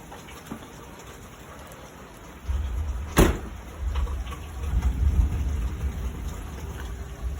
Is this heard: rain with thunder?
yes